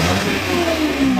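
A flooded Toyota Wigo's engine runs steadily close by, a mid-pitched hum with a slight rise in revs, no talking over it.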